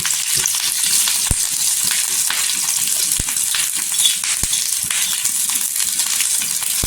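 Green chillies roast in a small spoonful of oil in a pan, a steady dense sizzle with a few sharp clicks and pops, close and continuous without talk.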